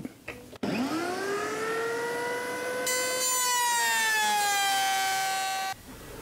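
A router spins up to a loud, high whine, then bites into an oak offcut with a harsher rising roar before cutting off abruptly.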